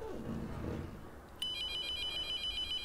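A telephone in a horror video game suddenly starts ringing after a second and a half of low, muffled rumble, its bright electronic trill holding steady and fairly loud until the end.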